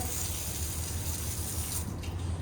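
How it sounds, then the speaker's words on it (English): Water sprays steadily from the outside sprayer of a 2023 Forest River No Boundaries 20.3 bunkhouse RV with the water pump running, a loud continuous hiss and rush close by that eases slightly near the end. "right now I got a little water in the system still, and I got the water pump on"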